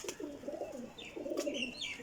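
White Sialkoti flying pigeons in a keeper's loft, two bursts of low rolling coos with higher chirps between, moderately close against background noise.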